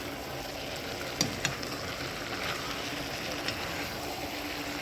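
Ackee frying in a pan for the Jamaican ackee and saltfish dish gives a steady, even sizzle close by, with a few sharp clinks of the stirring utensil.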